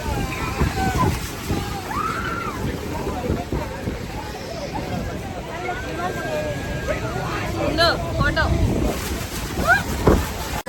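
A crowded tour boat rides the water at Niagara Falls, with steady sloshing and gusting wind filling the scene while several people chatter and call out nearby throughout.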